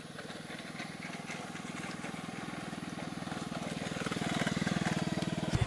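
A scooter engine hums steadily on a jungle road on Tioman Island, a nearby buzzing putter that slowly grows louder with a throaty pulsing rhythm, rising toward the end as if climbing or accelerating.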